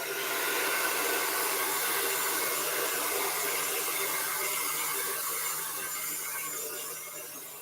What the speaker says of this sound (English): Just going to take my blow dryer here and speed up the drying process.